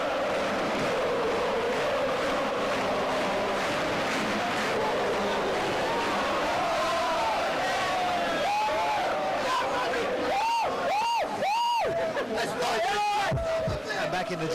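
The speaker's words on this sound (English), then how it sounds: "the heroes of Spurs wave goodbye to their devoted fans who cheer them all the way to" Spurs fans at the 1999 Worthington Cup final at Wembley keep up a dense, steady crowd roar and hubbub, with a few shrill whistles and rising chant tones standing out toward the end.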